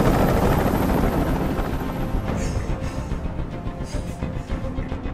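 A video game helicopter hovering over a hostage scene in Detroit: Become Human; its loud whirring rotor drones steadily, then fades slightly while pulsing blade thumps continue close by.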